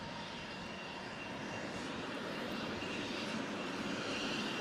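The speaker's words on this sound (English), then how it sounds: "this jet is amazing" A fighter jet engine with the 100th Fighter Squadron in Afghanistan gives off a steady, broad roar that builds slightly louder over several seconds, with no speech.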